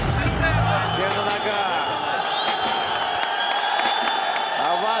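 A Tajik crowd gives an ovation at an MMA fight, a dense, steady roar of cheering and whistles that fills the whole moment, with an announcer talking over it.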